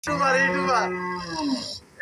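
A cow moos once in a long, drawn-out, loud call lasting nearly two seconds, close by and with no talking.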